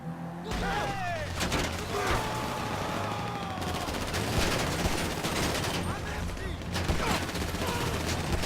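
Pistol gunfire in Grand Theft Auto V, a steady dense barrage of shots packed tightly together under game noise and music, near and loud for about eight seconds.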